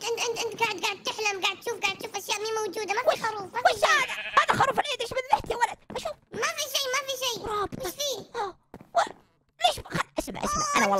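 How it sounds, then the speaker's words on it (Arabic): Repeated sheep bleats from a Minecraft sheep, treated as an Eid sacrificial lamb, come in bursts among lively talk from several young voices. "هذا خروف العيد"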